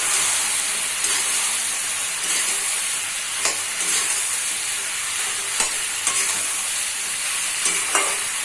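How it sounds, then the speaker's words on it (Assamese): Sponge gourd frying in a pan with tomato and green chilli, giving a steady close hiss and sizzle with a few sharp clicks of stirring scattered through. "এনেকৈ ভুলখিনি 5 মিনিটমান ভাজি ল'ম।"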